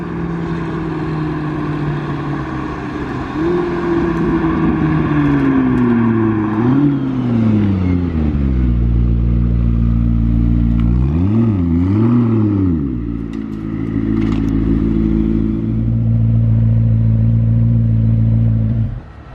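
A McLaren hypercar manoeuvring in electric mode in Monaco, backing up and pulling forward with a loud whining electric drive tone that rises and falls in pitch several times, close and unbroken.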